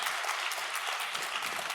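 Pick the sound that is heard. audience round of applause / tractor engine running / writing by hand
audience round of applause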